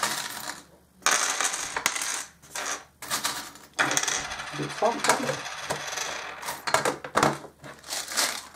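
Small divination charms rattle and clink as they are shuffled and cast onto a surface, a busy close jangle of light metallic clicks that comes and goes in waves while someone speaks softly.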